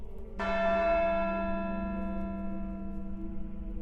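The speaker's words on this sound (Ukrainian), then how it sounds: "Дзвони?" A church bell in the video game Syberia II strikes once, loud and resonant, then rings on with a long humming decay that fades slowly over several seconds, with no talking.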